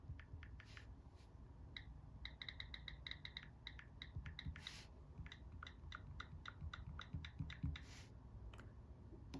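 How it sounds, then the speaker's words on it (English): Soft, quick clicks tap out in irregular bursts from an Apple iOS on-screen keyboard, fairly close and quiet. "Let's go here to keyboard sound"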